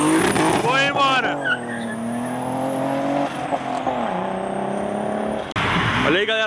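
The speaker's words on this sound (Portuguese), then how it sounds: "BMW Série 3 branca, sedã, indo embora" A white BMW 3 Series sedan pulls away from a car meet in Curitiba, its engine revving loudly and close, with tires squealing and a high whine rising and falling. A brief louder roar comes near the end, and no speech is heard.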